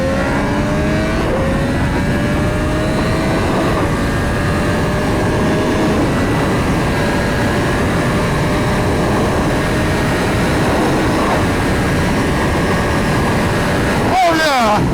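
A 2026 Aprilia RS 660 Factory sport motorcycle accelerates while being ridden, its engine a loud, steady drone that rises in pitch through the gears, with wind noise throughout and a voice speaking over it.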